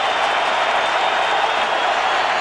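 A stadium crowd at a 2003 ALDS playoff game, Yankees at Twins, roars in a dense, loud, unbroken wash of cheering and clapping with no voices standing out.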